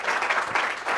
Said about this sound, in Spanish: Un aplauso para nuestro expositor, por favor.